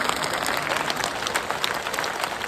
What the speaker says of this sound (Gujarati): 2 હાથ ઊંચા કરી તાળી વધાવો